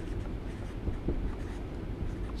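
Faint scratching of math being written on a board during a differentiation lesson, a soft, steady scrawl with no one speaking.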